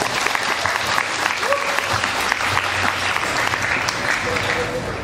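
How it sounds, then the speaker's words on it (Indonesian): Audience clapping at a school Islamic hijrah festival event, a steady, full round of applause that stays even and loud from start to finish, with faint voices mixed underneath. "Tepuk tangan buat Ibu."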